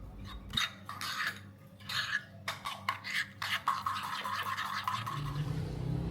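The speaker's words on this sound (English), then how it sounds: "go ahead and add in that fresh basil and mix thoroughly" Fresh basil being mixed thoroughly into gado gado sauce, with repeated scraping, rubbing and light clinks of a utensil against a bowl, close by and steady.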